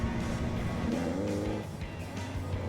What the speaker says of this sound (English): the guys make their way down towards the hairpin for the first time of asking